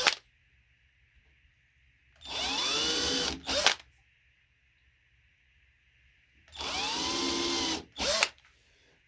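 A power drill widens screw holes to 2.5 mm, whirring up in two separate bursts of about a second and a half each, with each burst ending in a short extra spurt and quiet gaps between them.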